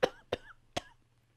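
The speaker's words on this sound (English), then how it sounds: "coughing up a hairball now" Three sharp coughs from one person, close and loud, evenly spaced over about a second, then a quiet pause with faint low hum beneath.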